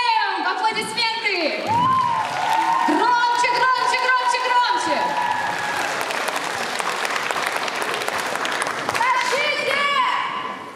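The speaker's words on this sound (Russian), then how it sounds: "Встречаем! Аплодисменты!" Audience at an anime festival claps and cheers as a loud host shouts over the noise, with chanting voices and laughter mixed through sustained applause.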